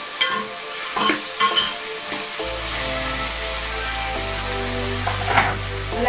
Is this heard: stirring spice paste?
yes